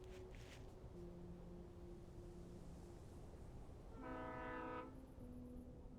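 A train hauling coal carts in the video game Alan Wake rumbles steadily, then a loud, sustained horn blast sounds for about a second before fading back into the low rolling drone.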